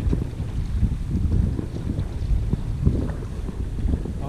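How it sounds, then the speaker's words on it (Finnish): Wind blowing outdoors on a breezy day, a steady low rumbling buffet with gusty swells over the microphone, loud and continuous, no voices heard. "nyt on vähän tuulista keli."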